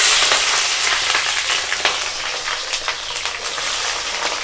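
Capsicum dropped into hot oil for chilli chicken crackles with a loud, dense, bright sizzle and small popping spits, continuous and close, with no voices.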